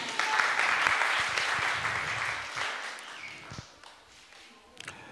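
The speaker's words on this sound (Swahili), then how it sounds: "Mpige Yesu makofi." A church congregation bursts into applause for Jesus during a Swahili sermon, dense enthusiastic clapping from many people that gradually thins out and fades to a few scattered claps.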